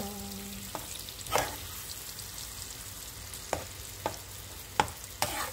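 Banana pieces cook in butter in a pan for a banana ube crepe, giving a soft steady sizzle broken by several sharp scrapes and clacks as a utensil stirs against the pan, close and fairly quiet.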